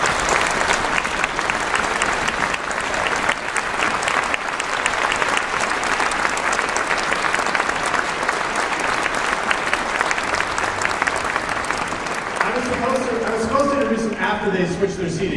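A concert audience at a HYSO and Philharmonia performance gives a warm welcome to the arranger, with sustained, full applause that tapers off near the end as a voice and tonal sounds emerge.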